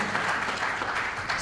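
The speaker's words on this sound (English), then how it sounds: "Can you give them a big round of applause for putting together today's event?" A crowd applauds at the Impact Summit 2018, an Indian Impact Project and Fund event. It makes a dense, steady wash of clapping that holds for the whole moment, with no voices heard.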